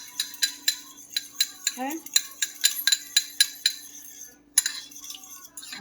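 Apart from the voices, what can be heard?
stirring ginger in a pan for mango salsa mahi mahi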